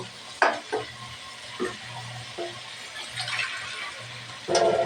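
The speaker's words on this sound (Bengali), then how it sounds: "মলান্দি মাছটা আমি একটু কষিয়ে নেব" Small molandi fish frying in a pan with spice paste, a steady sizzle with a few stirring scrapes and clatters, close and alone.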